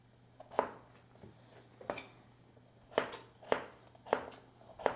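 Knife chopping food on a cutting board during a home meal of doenjang stew, several sharp separate strikes in uneven bursts, close and clear against a quiet room with a low steady hum.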